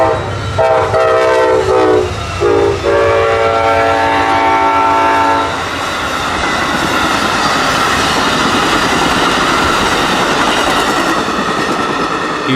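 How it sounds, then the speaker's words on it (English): An Amtrak passenger train, the southbound Silver Star, sounds its horn in several long blasts, then the roar and rumble of passenger cars rushing past close by continues steadily. "next up is Amtrak 91, the southbound Silver Star,"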